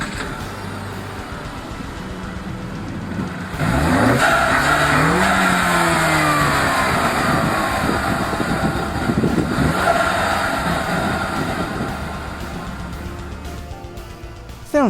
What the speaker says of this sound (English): Let's go ahead and fire it up and see how it sounds.